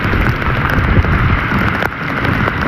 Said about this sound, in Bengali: রহমতের বৃষ্টি করতেছে